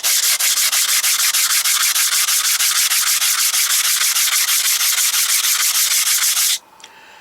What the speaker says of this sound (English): you grind it, and you can keep these stones relatively flat